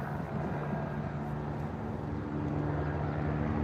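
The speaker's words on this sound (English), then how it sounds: "Oh, there's the chopper. I thought the helicopter left." Police helicopter circling overhead during a K9 search of an apartment block, a steady droning rotor and engine hum at moderate distance with no talk.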